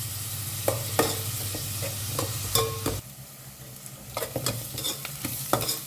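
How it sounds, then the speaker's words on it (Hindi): Onions sauté lightly in a pan for Goan-style chicken xacuti, with a steady soft sizzle under repeated scraping stirs of a spatula. "ज़्यादा प्याज को ना ज़्यादा ब्राउन ना करें, हल्का सा इसे सौटे करें"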